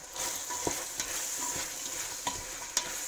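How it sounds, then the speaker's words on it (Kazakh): Carrots and onions sizzle steadily in a hot pan for un kuyrdak while a spoon scrapes and taps against it several times, with a few sharper clicks. "Сәбіз бен пиязды бірнеше минут бірге қосып қуырамыз."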